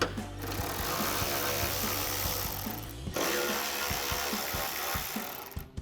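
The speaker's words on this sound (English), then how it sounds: "I'm going to switch to a 7mm socket to remove these two screws" A ratchet fitted with a 7mm socket backs out the screws holding the rear spoiler on a 2024-2026 Mustang GT, giving a steady run of close, rapid pawl clicks with a brief pause midway.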